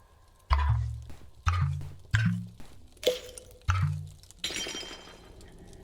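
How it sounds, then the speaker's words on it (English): Glass breaking sound effects for an indie game: five sharp shattering crashes, evenly spaced, each followed by a short tinkling decay, then a longer, brighter burst of scattering shards at the end. "then I take a glass breaking sound effect"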